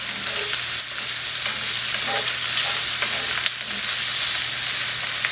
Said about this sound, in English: I'm going to come right back over here and just stir these. I want a good sear on them